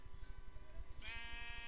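A single sheep bleats in the Minecraft video game, a short wavering call rising near the end over soft background music with steady low pulses.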